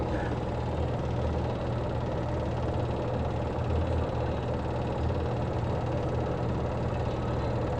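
A spin dryer motor with a noisy shaft runs continuously with a steady, rough droning hum and rattle, loud and unchanging throughout.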